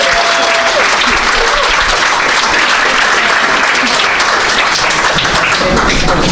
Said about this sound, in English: Round of applause for Brid.